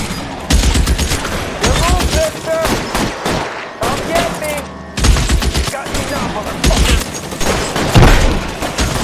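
Gunfire in L.A. Noire: dense bursts of shots and fusillade-like volleys that come nearly without pause, loud and close, with brief lulls, while shouted voices rise over the shooting.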